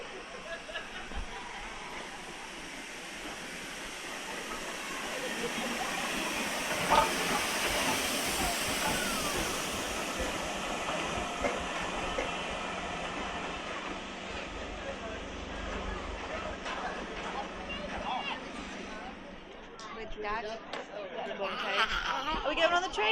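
A heritage steam train runs on the Embsay & Bolton Abbey line with a steady hissing, rumbling roll heard from on board, as people chatter and talk over it throughout.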